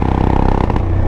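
A Suzuki DR600 converted into a bobber runs in fourth gear while riding, giving a loud, steady, close engine drone with a rough mechanical edge.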